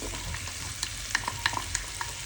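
Garlic sizzling as it is sautéed in a frying pan, a steady close crackle and hiss with scattered sharp pops and light stirring scrapes, no talking.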